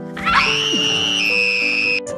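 A girl in a film lets out one long, piercing, hysterical scream, loud and close, held for about two seconds before breaking off.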